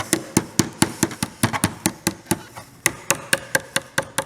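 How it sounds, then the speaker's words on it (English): A hammer taps a panel into place on an arcade bartop cabinet kit, giving a steady run of about twenty sharp, close knocks at an even rhythm with no talking. "you should be able to take your hammer and tap that in"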